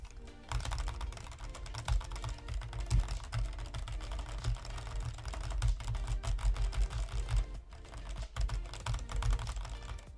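Buttons on a Haute42 leverless arcade controller being pressed rapidly, a busy stream of sharp, keyboard-like clacks in fast irregular bursts, close and clear with no talking.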